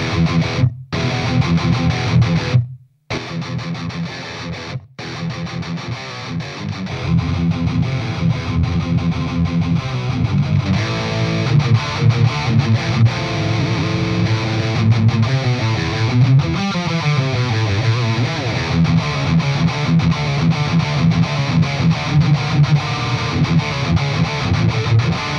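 A Kramer Nightswan electric guitar played through heavy distortion with a noise gate and no reverb, loud dry 1980s-style riffs with brief gated silences early, then continuous sustained chords and lead lines.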